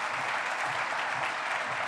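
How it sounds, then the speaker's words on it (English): Audience applause at a political brunch event, steady dense clapping from a crowd, even in level and moderately loud for the whole stretch. "So please, a round of applause for these amazing leaders"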